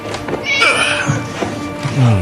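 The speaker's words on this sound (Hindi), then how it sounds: "उस बिल्ली का नाम हुल्डा है" A cat meowing in a Hindi-dubbed Hollywood action film, rising and falling cries heard close under a busy background of other film sound.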